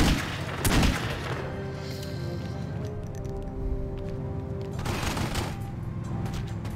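A shootout in The Godfather game opens with a loud burst of rapid gunfire, then a tense humming score lingers before more scattered shots crack out near the end.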